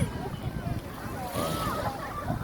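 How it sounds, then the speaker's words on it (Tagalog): Rough sea waves at Dolomite Beach in Manila wash and churn under steady wind noise, a broad, faint rushing sound with a voice briefly talking over it. "Ayan, maalon."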